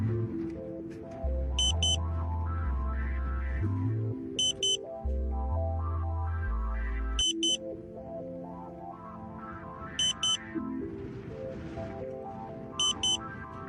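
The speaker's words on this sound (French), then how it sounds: "Vous devez maintenant réinitialiser le modem et attendre 7 tonalités de battement de cœur." A satellite internet modem sounds its heartbeat tones after a reset. Short high beep pairs repeat roughly every 3 seconds over a steady background of low tones and hum, with no talking.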